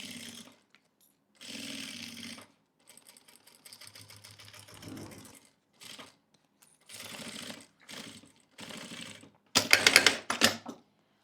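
A sewing machine stitches all the way around a mouse pad made of batting and plastic. It runs in several separate bursts of rapid mechanical whirring, with short pauses between them. The final burst is the loudest.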